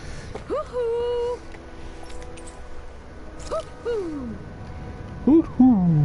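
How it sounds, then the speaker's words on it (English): Owl hooting in the video game Tales of Arise, a few drawn-out tonal hoots spread across the stretch with quieter game sounds between them, the last ones louder. "I'm surprised there are owls here, too."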